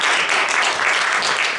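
An audience at a holiday magic show breaks into applause, a thick continuous patter of clapping from a roomful of people, fairly loud and unbroken across the short burst.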